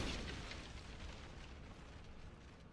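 Heavy broadband rumble of warship cannon fire in Assassin's Creed IV Black Flag during a naval battle, a loud sustained boom that slowly decays over a few seconds with no talk.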